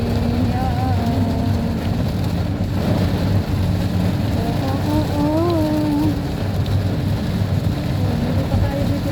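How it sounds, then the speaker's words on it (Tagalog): Heavy rain pours steadily and loudly throughout, a dense constant wash, with voices talking over it and a low rumbling hum underneath. "lakas ng ulan."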